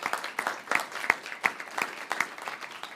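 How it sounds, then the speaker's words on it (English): Sparse applause from a small audience after a panel discussion, irregular individual claps spaced through a few seconds, fairly quiet and close. "A big round of applause for all of them."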